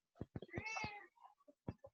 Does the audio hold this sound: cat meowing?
yes